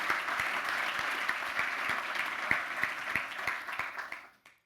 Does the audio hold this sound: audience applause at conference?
yes